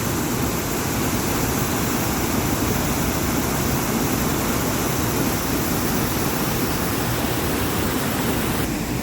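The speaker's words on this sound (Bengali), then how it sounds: "ছোট একটা ঝর্ণা, কিন্তু কি তার প্রতাপ!" A small but powerful waterfall in an alpine village, a continuous loud roar of rushing water, close and unbroken throughout with no other sounds.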